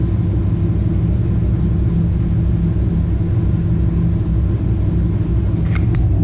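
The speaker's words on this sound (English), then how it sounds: "from what I was told by my tuner, that at idle that misfire is normal" A supercharged Corvette engine idles with a reported misfire, a loud, heavy, continuous low rumble heard up close and steady from start to finish.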